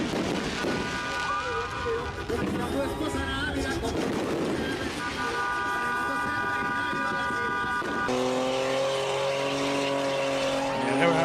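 Car engines rev and tires squeal in sustained, shifting tones over a rumbling roar, with people talking over much of it.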